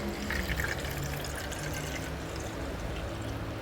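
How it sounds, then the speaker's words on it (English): Water pours steadily into the 1.7-liter tank of a Gemilai 3605 espresso machine as it is filled to the top, a continuous close splashing and trickling with no talk. "I'm going to fill it up to the top."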